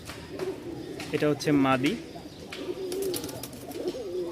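Rajshahi Giribaj pigeons, a newly paired black male and a female, coo softly nearby in a few rolling phrases while someone talks over them.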